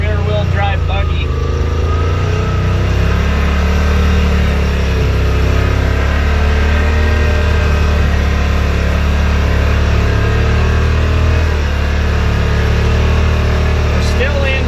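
A Yamaha Wolverine RMAX 1000 side-by-side rumbles steadily on the Hells Revenge trail, a loud, continuous low engine drone with shifting tones from inside the cab, while people talk over it.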